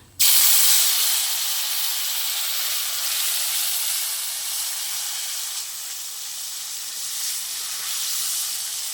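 Chopped tomatoes hit hot oil tempered with whole cumin, two bay leaves and whole garam masala, giving a loud, steady sizzle that bursts in sharply and then holds as an even hiss throughout.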